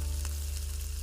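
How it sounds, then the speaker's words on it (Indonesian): Flour-coated smoked tuna fries in hot oil, a steady, dense sizzle and crackle with a constant low hum underneath, close and uninterrupted. "Lapisi ikan tongkol asap dengan tepung terigu, lalu goreng."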